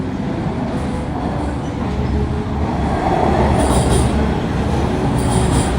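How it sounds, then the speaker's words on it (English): A Toronto subway train rumbles loudly through a busy station at rush hour, wheels grinding and squealing on the rails in a steady, close roar, with no speech. "this is the busiest subway station in the city"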